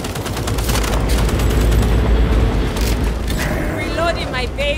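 Dense, rapid gunfire in the video game Second Extinction rattles loudly and steadily over a low rumbling background, with a voice speaking over the shooting.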